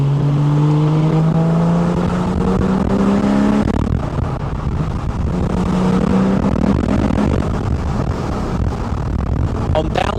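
Porsche 911 (991.1 Carrera) fitted with an Akrapovic titanium slip-on exhaust accelerating on partial throttle, a loud gruff engine note climbing through gears with a shift around the middle, heard close and continuous.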